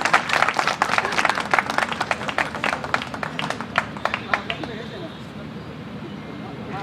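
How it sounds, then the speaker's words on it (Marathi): At a school reunion in Beed, a gathered crowd applauds a former headmistress with loud, dense clapping that lasts several seconds before thinning into scattered claps and fading into room murmur. "म्हणून एकदा जोरदार टाळ्या मॅडमसाठी आपण वाजवूया"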